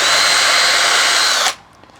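Power drill boring a hole through a car number plate for an Alfa Romeo Mito Cloverleaf, a loud steady high whine held for about a second and a half before cutting off sharply, no talking.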